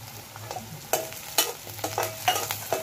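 Small shallots, sliced onions and two dried red chillies frying in a pan over a wood-fired stove: a soft, constant sizzle with a scattering of sharper spatula scrapes, up close and without talk.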